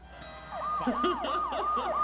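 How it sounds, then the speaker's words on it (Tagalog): A police siren wails in a steady rising and falling cycle, faint and somewhat distant, under low background noise. "Ayan na, may wangwang."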